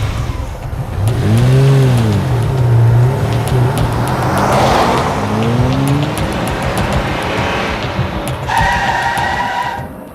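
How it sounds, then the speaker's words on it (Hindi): A car turns and drives off, the engine revving loudly up and down through gear changes before receding, with a faint chirp of tires and no talk. "जल्दी गाड़ी घुमा और जल्दी घर चल"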